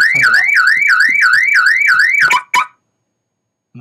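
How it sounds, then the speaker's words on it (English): A loud car alarm played from a laptop wails in a rapid, repeating up-and-down warble, then cuts off abruptly, leaving near silence. "the car alarm's going off"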